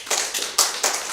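An audience at an improv comedy show gives a few scattered, fairly faint claps in quick separate bursts.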